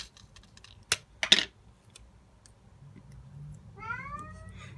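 A house cat meows to be let out, one rising meow near the end, after two sharp clicks and some quiet keyboard tapping at an iPhone 6 battery repair bench. Nobody talks.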